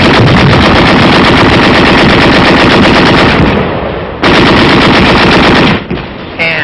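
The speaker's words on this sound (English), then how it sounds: "With BARs and machine guns." World War II machine guns and BAR automatic rifles fire in long, loud, close bursts that break off briefly before resuming.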